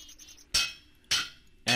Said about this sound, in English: Hammer them down.